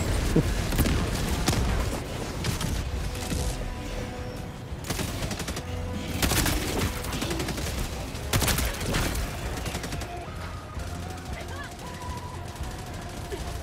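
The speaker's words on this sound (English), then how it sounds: "I'm using a railgun strike on him." Railgun strike and rapid gunfire in Helldivers 2 combat against Automatons, with repeated loud bursts, sharp cracks and heavy booms throughout, while a person talks over the shooting.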